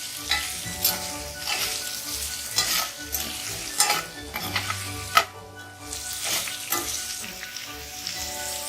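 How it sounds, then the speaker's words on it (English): Potatoes being stirred with ginger and green chili in a hot oiled pan for a home-style aloo matar sabji, a steady sizzle with repeated scraping stir strokes and occasional clinks of utensil on pan, close up with no talking. "Now mix it well."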